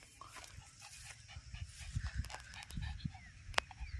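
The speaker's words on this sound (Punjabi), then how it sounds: "ਇੱਕ ਵਾਰ ਫੇਰ ਸਾਡੀ ਕੁੱਤੀ ਨੂੰ ਮਿਲ ਲਓ" A tired female dog pants close by in a quiet yard: quick, rhythmic breathy huffs that grow a little stronger midway, faint overall, with a few light thumps and no talk.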